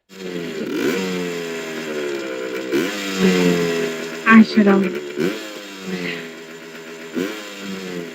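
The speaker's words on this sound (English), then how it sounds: "he comes back on his bike and revs the motor at her" A motorcycle engine revs up and down repeatedly, rising and falling in pitch, with a voice speaking briefly over it.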